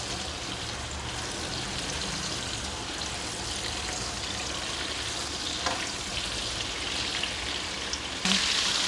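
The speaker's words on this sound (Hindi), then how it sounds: "इस तरीके से हम इसको हल्दी और ऑयल में अच्छे तरीके से करते जा रहे हैं फ्राई" Raw mango pieces fry in oil with turmeric, giving a steady, close sizzle with faint bubbling and occasional stirring clicks, and no talking.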